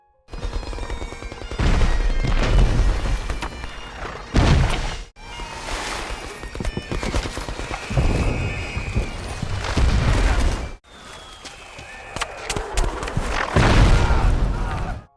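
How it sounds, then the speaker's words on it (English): Heavy booms and crashes of World War I German gunfire and artillery explosions rumble in dense, chaotic bursts on a battlefield, interrupted by a couple of abrupt cuts. "German bullets and artillery rain down on them non-stop"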